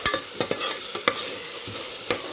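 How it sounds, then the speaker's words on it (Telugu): Ginger garlic paste frying with mint leaves and coriander, a loud close sizzle under quick repeated spoon strokes and knocks against the pan. "వేసేసి బాగా వేగనిచ్చుకోండి"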